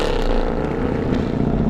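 A 6.2-liter naturally aspirated V8 wearing 6.3 badges runs with a loud, steady, deep drone close by, holding an even note throughout without voices.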